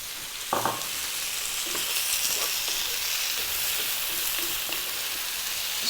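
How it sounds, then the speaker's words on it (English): Potatoes dropped into a pan of sizzling chicken curry: a brief thud at the start, then steady loud frying sizzle and hiss continuing throughout with small crackles, no voices. "let's drop in our potatoes"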